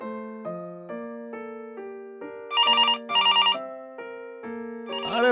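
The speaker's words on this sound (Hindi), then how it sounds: "ये मोबाइल की जगह लैंडलाइन खनखना रहा है" A landline telephone rings in repeated electronic warbling tones, loud and close, with a few brighter trilling bursts in the middle, and no voices.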